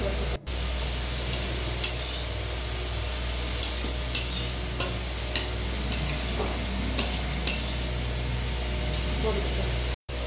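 Leafy greens are stirred in hot ghee with salt and turmeric in a pan. A steady sizzle runs under repeated light scraping strokes from a spatula or spoon, close and fairly soft.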